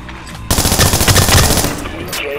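Rapid automatic gunfire crackles in the stealth shooter Splinter Cell Blacklist, a loud, dense burst that cuts in abruptly and rattles for about a second and a half before fading.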